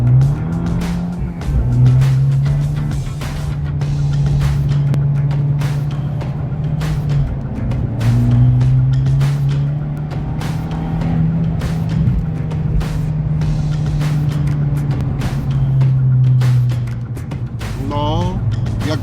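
An Abarth 695 Competizione with a flap-valve exhaust drones steadily while driving, its engine note rising and falling through gear changes, with a faint tire squeal near the end.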